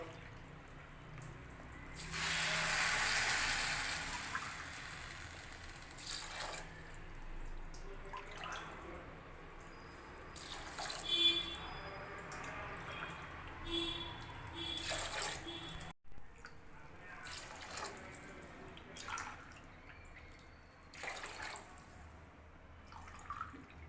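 Water poured from a cup into a pot of washed, drained basmati rice for pilau, a faint splashing pour followed by quiet kitchen trickles and drips, no talking.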